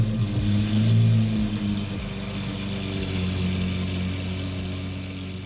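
V12 car engine revving, a loud deep throaty roar that swells briefly then settles into a steady humming drone, heard alone without voices.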